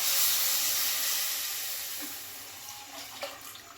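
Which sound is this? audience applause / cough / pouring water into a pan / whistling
pouring water into a pan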